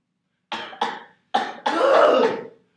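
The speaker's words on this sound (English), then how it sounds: "don't you know better than to not cover your mouth when you're coughing?" Four coughs in quick succession, the last one longer and rougher, close by with no other sound around them.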